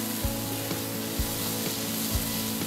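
Baby potatoes and soft tomatoes fry in a pan for aloo gobi, a continuous close sizzle broken by three or four dull knocks and scrapes of a spoon stirring, with a low steady hum and no talking.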